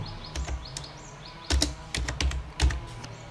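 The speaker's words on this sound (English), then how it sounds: "you need to type some commands" Keys on a computer keyboard clatter in short irregular bursts of taps, close and fairly quiet, with brief pauses between clusters of keystrokes.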